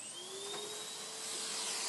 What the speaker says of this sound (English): We're going to vacuum our surface. We're going to vacuum the area.